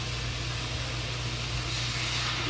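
Soy sauce hitting sliced pork in a hot pan, a steady, loud hiss of sizzling that holds evenly for a couple of seconds over a low background hum, with no voices.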